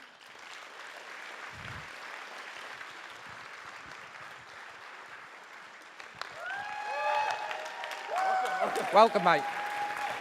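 Steady applause from an audience at a TEDx Junior Speakers event in Norwich, welcoming a young speaker onto the stage; broad, sustained clapping with a short spoken greeting near the end.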